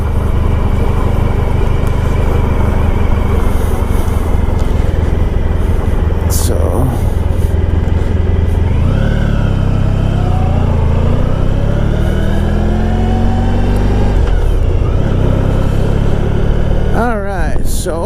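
A 1994 Honda ST1100 touring motorcycle cruising on open road, its engine droning steadily and loudly throughout with wind rush and pitch shifts as it changes speed, and a rider's voice talking over it at times.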